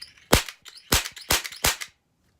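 An airsoft pistol firing .12 gram BBs, four sharp, loud, close snapping shots in quick semi-automatic succession, then silence.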